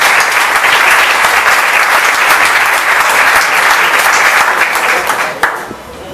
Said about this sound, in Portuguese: Vamos receber uma salva de palmas diante de Jesus.